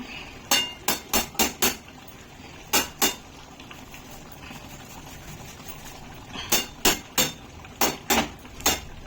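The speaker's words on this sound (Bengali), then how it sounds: "আদাটা ঘষে দিচ্ছি" Fresh ginger rubbed against a grater, quick rhythmic scraping strokes in bursts of four to six, pausing between runs, close and crisp.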